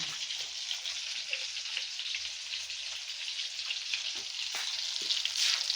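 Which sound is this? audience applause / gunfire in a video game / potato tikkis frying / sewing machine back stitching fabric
potato tikkis frying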